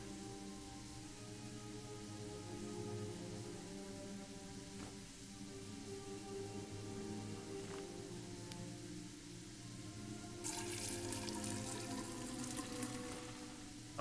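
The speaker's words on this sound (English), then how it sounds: "Turn the water off now, Fran." Water runs from a tap into a pot in the Fran Bow video game, a steady soft hiss of flow that brightens briefly near the end, faint and with no talk.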